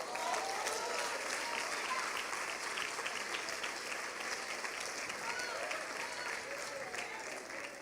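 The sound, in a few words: church congregation applauding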